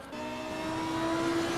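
Race car engine in the Assetto Corsa Competizione racing game at the Paul Ricard circuit, a steady high-pitched whine that climbs slightly as the car accelerates down the straight, heard alone and fairly quiet.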